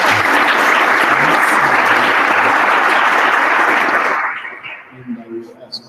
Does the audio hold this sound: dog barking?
no